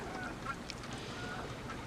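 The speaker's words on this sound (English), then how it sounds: "hear the sound of the geese at this lake" Geese call faintly in the distance at a lake during thick falling snow in Boone County, their honks thin and scattered over a steady wash of outdoor noise.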